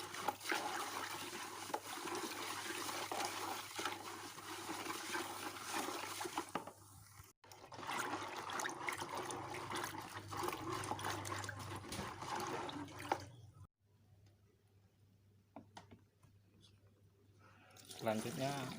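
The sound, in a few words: pouring AB Mix nutrient solution slowly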